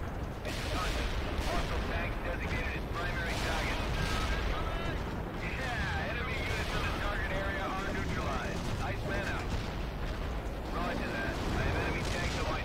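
Dense rumbling bombardment explosions in the real-time strategy game World in Conflict, a continuous loud barrage of blasts and mechanical clatter lasting throughout, with a voice talking over it.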